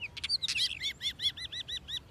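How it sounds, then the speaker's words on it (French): Songbirds in a French puppet show twitter in a quick run of bright, repeated chirps, clear and fairly close, with a faint hum underneath. "Oui, des oiseaux chanteurs."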